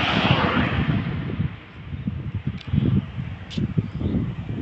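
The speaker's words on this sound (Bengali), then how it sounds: "খুব সুন্দর একটা হাওয়া দিচ্ছে," Cool breeze blowing across open countryside beside a quiet road lined with trees and paddy fields, heard as a steady low buffeting rush of wind over the microphone with gusty swells throughout.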